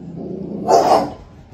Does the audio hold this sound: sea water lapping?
no